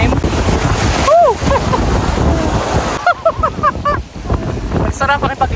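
Strong ocean waves roll in at Boracay beach in a loud, rushing wash mixed with heavy wind noise, while excited voices shout and whoop over the surf.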